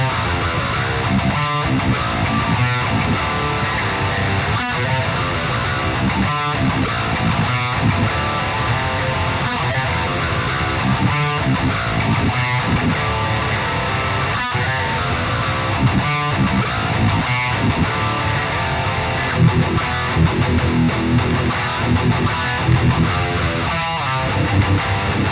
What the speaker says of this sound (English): First up is the Harley Benton Amarok baritone 6-string.